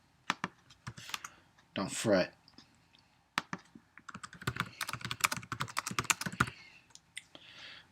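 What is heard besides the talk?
typing on a computer keyboard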